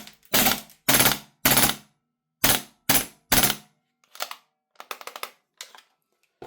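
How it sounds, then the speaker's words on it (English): An airsoft MP9 gas blowback gun fires single semi-auto shots: six loud, sharp cracks in two groups of three, followed by quieter mechanical clacks and rattles of handling, with no talking. "Let's put a couple more rounds in. Let's go back to semi-auto."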